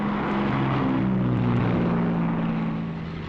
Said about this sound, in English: timed to the escort schedule, the P-38s get underway